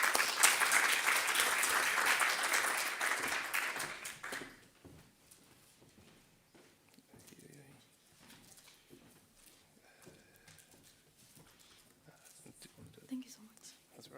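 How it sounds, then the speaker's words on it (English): A crowd at an entrepreneurship competition final applauds a presenter, with loud, dense clapping for about four seconds that then stops abruptly, leaving quiet room noise, faint rustling and scattered murmurs. "A round of applause for her."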